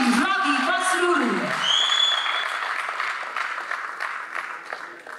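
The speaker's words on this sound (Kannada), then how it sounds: "ದಯವಿಟ್ಟು ಜೋರಾದ ಚಪ್ಪಾಳೆ ಮಾಡಬೇಕು" Audience applause for a music award winner at a film critics awards ceremony, a steady wash of clapping that fades gradually, opening under an announcer's voice and a brief cheer.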